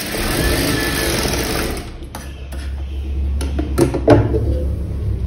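Sewing machine double stitching a blouse seam, a low mechanical whir running for about two seconds, followed by quieter clicks and handling noises as the fabric is adjusted.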